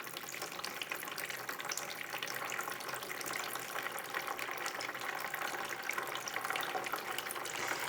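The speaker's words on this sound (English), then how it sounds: "Okay, let's give her some water." Steady water pours from a bottle onto a houseplant, a continuous close splashing and trickling rush that holds an even level from start to finish, with no voices.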